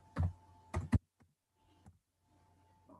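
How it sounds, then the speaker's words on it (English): Keystrokes on a computer keyboard, a few quick clicks up close followed by sparse, fainter taps in a quiet room. "Let me type that in the chat."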